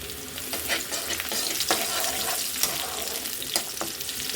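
Bay leaves and garam masala fry in hot oil for a chana dal dish cooked with fat, a continuous soft sizzle broken by scattered crackles and spoon stirs, moderately quiet and near.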